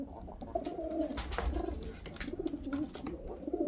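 Pigeons coo in soft, repeated low calls throughout, a flock of highflyer birds kept for sale, with steady background murmur and no clear speech.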